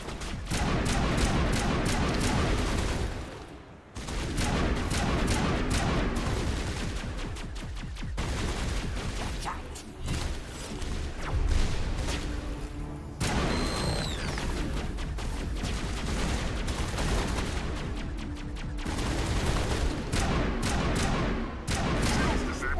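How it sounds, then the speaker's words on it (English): Turret gunfire in the game Mass Effect, with dense rapid bursts of shots and heavy blasts going on almost continuously, loud and close, broken by a brief pause, with game effects layered in. "That turret is nasty."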